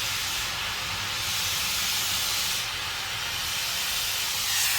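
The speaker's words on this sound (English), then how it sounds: "got the gas torch, get a bit of gas burning, mix in the oxy" An oxy-gas torch burns steadily while heat goes into a 1965 Matchless G12 CSR exhaust pipe, a loud continuous roaring hiss that swells slightly in places and never lets up.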